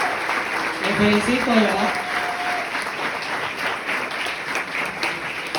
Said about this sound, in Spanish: Dense un aplauso, dense un aplauso.